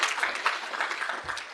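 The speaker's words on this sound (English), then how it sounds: "Please give them a round of applause." Applause from the audience closing a university spring summit, a moderate, steady patter of clapping lasting only a moment.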